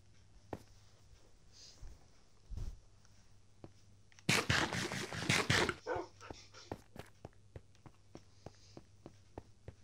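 Dogs in a domestic setting whine and give a few short barks, with one louder burst of yelping in the middle, surrounded by scattered footsteps and clicks; no talking.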